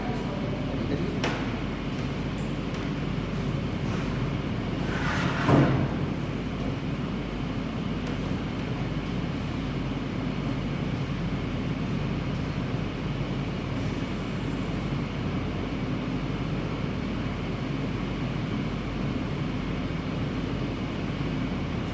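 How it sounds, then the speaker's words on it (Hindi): A generator runs with a steady, broad droning rumble much like the hum inside an air-conditioned train coach, continuous throughout with a brief louder knock near the middle and no voices. "ये यहाँ जनरेटर की आवाज़ ऐसे आती है जैसे ट्रेन में आती है"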